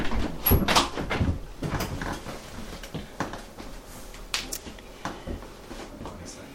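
Several doors thud and clack shut one after another, close by, with sharp knocks and rattles spread across the clip.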